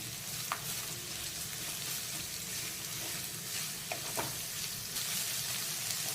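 Onion and capsicum fry in a pan over a medium gas flame for a veg frankie filling, giving a steady, close sizzle with a few sharp stirring clicks and no talk.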